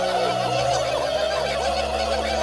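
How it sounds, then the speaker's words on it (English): Cartoon turkeys gobbling in a flock, a dense, warbling chatter of overlapping gobbles that runs steadily and loud for a few seconds over a low hum, with no speech. "we get to see both Chef and the turkeys do their own rendition of William Wallace's speech"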